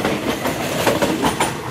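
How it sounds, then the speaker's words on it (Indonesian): A long train rolls past on the rails close by, a loud continuous rumble with rhythmic clickety-clack bursts from the wheels crossing rail joints and no voices. "keretanya sangat panjang sekali"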